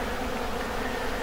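Steady, close buzzing of many honey bees gathering on extracted honey frames to clean them, a short continuous drone with no talk.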